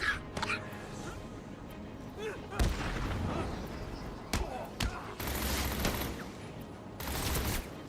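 Enemy gunfire in the Batman Arkham City video game, with repeated sharp shots and longer bursts of firing mixed with busy game noise and effects.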